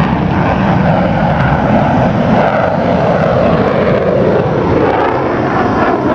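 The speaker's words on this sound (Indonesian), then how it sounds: "ada pesawat tempur." Loud, steady roar of a fighter jet engine, continuous and close, filling the whole stretch with no voices.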